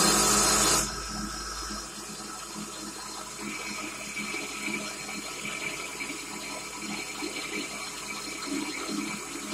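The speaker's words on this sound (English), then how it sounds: "I'm going to do a test cut on this and see what sort of surface finish we get" A test cut on a metal lathe, a brief loud burst at the start, then a steady low machining hum and light scraping continuing close by without talk.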